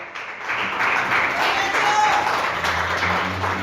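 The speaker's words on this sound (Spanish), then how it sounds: "Regala bonita las palmas a esta palabra." Applause from a church congregation during a Spanish-language sermon: a steady wash of many hands clapping at once, sustained and fairly loud throughout the short stretch, with faint voices mixed in.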